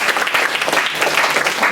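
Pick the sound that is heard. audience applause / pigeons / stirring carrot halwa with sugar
audience applause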